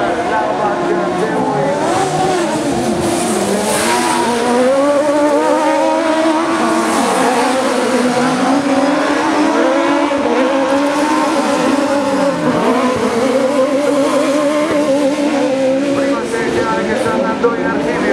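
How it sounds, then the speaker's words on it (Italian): 1600cc autocross buggies race at Maggiora in a European championship event, engines droning and revving continuously with rising and falling pitch as cars pass, loud and sustained, with an announcer talking over the racket. "all'ultima curva ed eccolo arrivare sul rettilineo finale Marcus Weber a chiudere vittorioso"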